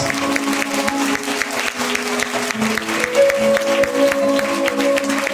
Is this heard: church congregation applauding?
yes